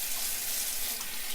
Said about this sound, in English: And then I rinse out the soap, and I wash the coffee pot.